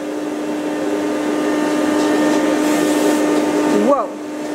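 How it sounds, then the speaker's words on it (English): A household vacuum cleaner runs with a steady, close motor hum and whine, then its tone sweeps and cuts off sharply near the end. "Vacuum fun with the boys."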